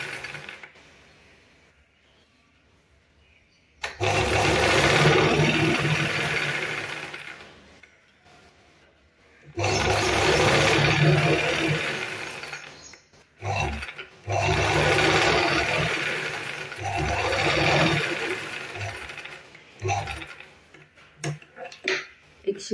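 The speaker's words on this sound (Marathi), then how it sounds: "एक शिलाई करून घेतली मी" A sewing machine stitching a blouse runs in long continuous whirring bursts of several seconds each, separated by short pauses, loud and close.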